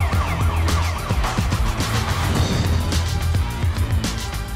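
Eerie synth tones from the BeepMap plugin in FL Studio, with a dense wailing, siren-like texture over a steady low rumble, sustained and fairly loud throughout with no pauses.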